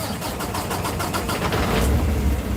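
A truck engine cranks with a rapid rhythmic churning, then catches and rumbles into a low, uneven idle, loud and close with no talking.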